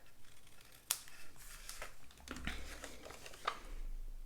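Scissors cutting and notching a small tab on a paper box: a sharp snip followed by several softer crisp cuts and faint paper rustles, close and quiet, with no talking.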